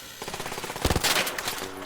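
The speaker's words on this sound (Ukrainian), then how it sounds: "Це, це бот в мене стріляє" Rapid bursts of gunfire from a bot enemy in the video game ARC Raiders, a loud rattling volley in the middle with scattered shots before and after, heard alone without talk.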